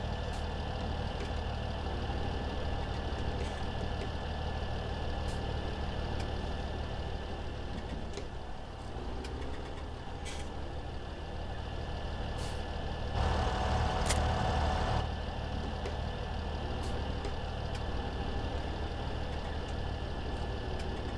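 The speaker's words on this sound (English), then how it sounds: "I should have turned my tractor off actually, I'm wasting fuel" A tractor engine idles in Farming Simulator 2017, a steady mid-low rumble running unbroken for about twenty seconds, with a short brighter swell partway through before settling back to the same even hum.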